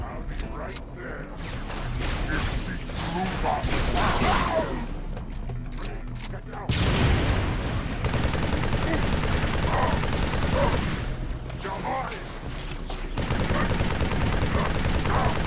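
Rapid bursts of gunfire from the video game Halo 3 ODST crackle repeatedly, fairly quiet, with a player talking intermittently over the shooting.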